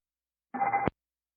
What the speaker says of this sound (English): I believe the first sound you hear is the master caution alarm going off in the cockpit